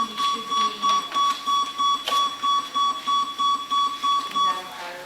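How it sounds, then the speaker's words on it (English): A fire alarm in a meeting room sounds as a repeating electronic beep pattern, regular pulses about twice a second, moderately loud and steady, with faint room noise and no speech over it. "is that a fire alarm?"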